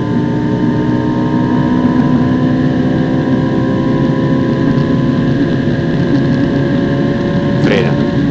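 Ferrari 458 Italia engine on track at the Monza circuit, a loud, steady, droning in-cabin engine roar held throughout, with no clear pitch change and a brief squeak near the end.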